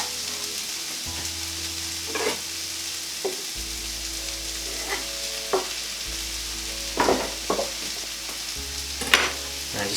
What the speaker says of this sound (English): I'm now going to put the peppers on